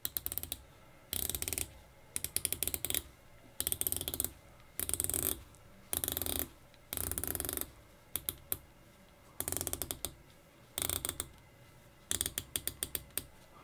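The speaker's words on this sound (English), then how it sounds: "Let's go ahead and get an idea of this bezel action." A Traska Freediver watch's 120-click bezel is turned in repeated short bursts of crisp, rapid ratcheting clicks, close up, with brief quiet pauses between turns.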